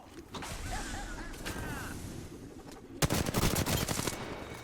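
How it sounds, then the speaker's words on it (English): Bursts of automatic gunfire in the battle royale video game Apex Legends, a rapid rattling volley loud and close in the second half, after quieter game effects and background chatter. "Listen up, I'm getting shot at."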